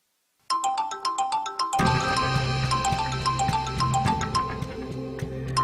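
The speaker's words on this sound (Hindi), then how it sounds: "सुल्तान का फोन आ रहा है।" A phone ringtone starts abruptly from silence as a bright, tinkling electronic melody, then a fuller beat joins and it keeps playing loudly, repeating its pattern to the end.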